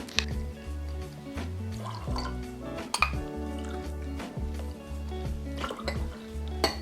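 Cold brew coffee is poured into a coffee liqueur cocktail, giving soft liquid trickles and drips with a few clinks of glassware over quiet background music.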